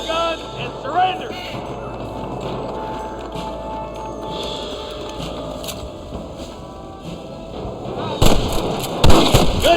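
Gunfire in the Red Dead Redemption Wild West game bursts out in sharp cracks, with a cluster of loud shots near the end, beneath ambient game noise, hoofbeats and spoken dialogue.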